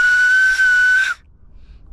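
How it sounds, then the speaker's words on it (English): An empty snail shell blown as a whistle on a Spanish mountain summit gives one loud, shrill, steady tone held for about a second, then cuts off abruptly to quiet outdoor air. "these actually make really good whistles and can be quite shrill and loud"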